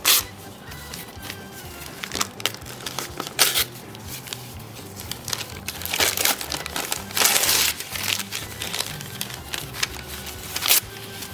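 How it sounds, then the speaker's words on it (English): Newspaper being ripped into pieces and crumpled by hand for a garden craft, heard as close, irregular bursts of tearing and crinkling paper with short pauses between them and no talking. "just rip it up into some pieces"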